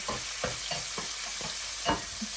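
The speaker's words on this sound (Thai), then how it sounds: "ผัดให้กุ้งเขาสุกนั่นแหละ" Shrimp sizzle as they stir-fry in a hot pan while a utensil stirs and scrapes in a loose rhythm of soft knocks, close and fairly quiet.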